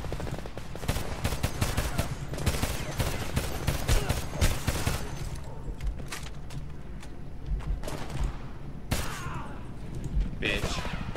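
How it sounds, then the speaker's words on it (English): Machine gun fire in the shooter game Homefront, dense repeated bursts of automatic gunfire through most of the span with game effects, loud and close. "Was machine gun, second floor."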